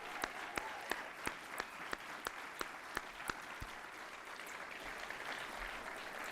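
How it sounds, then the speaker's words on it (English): Sustained audience applause honoring NASA agency award recipients at a formal ceremony, a dense wash of many hands with a few sharp, close claps standing out in a steady rhythm, no talking over it. "let's give all of our distinguished honorees another round of well-deserved applause"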